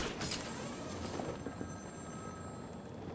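A payphone rings in the game Batman: Arkham City, a faint, thin repeating ring sitting above a constant low background drone, distant rather than close.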